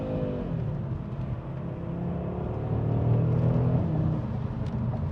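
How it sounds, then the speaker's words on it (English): A 2022 Audi RS3 saloon's loud exhaust gives a steady engine roar with deep low rumble, swelling slightly midway as the car pulls, continuous throughout with no talking. "the exhaust is really loud. You can probably hear that now."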